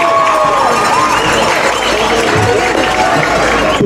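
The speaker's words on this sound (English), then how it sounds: "So give them a big round of applause," A crowd at a high school homecoming football game applauds a newlywed couple, a dense, steady wash of clapping and cheering filling the stands from start to finish, with a few voices calling out.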